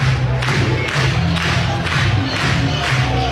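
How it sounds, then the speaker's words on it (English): A softball stadium crowd at a Florida State versus Oklahoma super regional game roars in a frenzy, a loud sustained wall of cheering and shouting with rhythmic surges and thumps throughout. "And the crowd has worked into a frenzy here."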